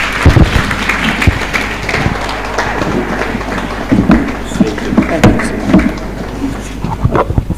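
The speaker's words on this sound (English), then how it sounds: "A round of applause again for our guest speaker" An audience at a public lecture on corruption claps after the talk ends, with scattered hand claps and a dense patter over room noise. A voice speaks intermittently through it.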